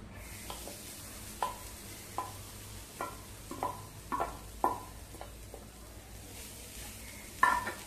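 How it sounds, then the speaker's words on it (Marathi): Freshly grated coconut stir-fried in a little ghee in a pan over low gas, a steady soft sizzle broken by irregular scraping stirs of the spatula, close and moderately quiet, with no talking. "आपल्याला छान असं परतवून घ्यायचंय, खोबऱ्याचा कच्चापणा जाईपर्यंत चांगलं 1-8 मिनिटभर।"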